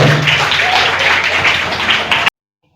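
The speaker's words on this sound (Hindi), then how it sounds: "फिर से एक बार जोरदार तालियां हो जाए।" An audience applauds loudly and densely after a student's Independence Day speech at a school event. The clapping is sustained and close, then cuts off abruptly after about two seconds.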